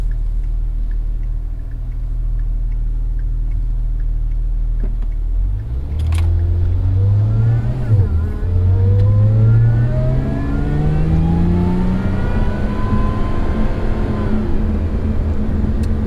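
A Lotus Emira Touring pulls away and accelerates hard, its engine note climbing in pitch, dropping at each gear change and rising again, loud and close.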